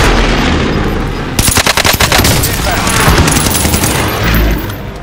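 Air strike in Call of Duty Warzone: a burst of rapid, loud gunfire-like impacts in quick succession over a steady noisy bed, fading into rumbling after a few seconds.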